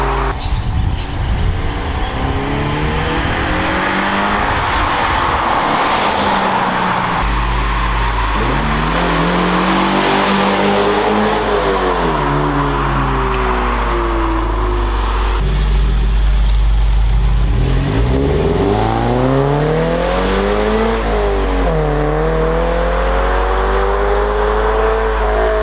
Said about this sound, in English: So far, we love the sound of the car from the outside